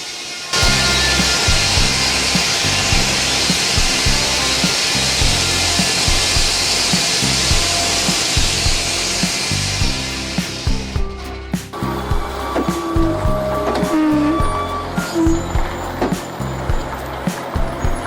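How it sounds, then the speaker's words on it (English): An industrial wood chipper, the Comp Cheapo 8010C, shreds whole trees into chips, roaring loud and steady with a dense broadband grind, then shifts to rougher, uneven chipping bursts near the end. "Designed to turn entire trees into clean wood chips at astonishing speeds"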